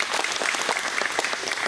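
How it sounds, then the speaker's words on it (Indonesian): Dense applause from an audience at a soft launch of a forestry student association secretariat in Papua, a continuous, even patter of clapping filling the whole short stretch without pause. "Kita tepuk tangan."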